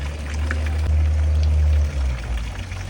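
Water pours steadily from a tap or outdoor fountain spout on a street in Colmar, France, a continuous close rushing stream with no speech over it.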